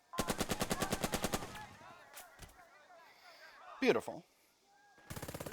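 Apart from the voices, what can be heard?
machine gun fire from the video game Burden of Command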